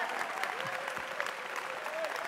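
Congregation applause at a church ministry service, a dense, steady wash of many hands clapping throughout, with voices rising over it.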